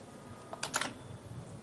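A short burst of three or four quick key clicks on a computer keyboard during an SAP software training session in Kolkata. The clicks are close and crisp over a faint room hush.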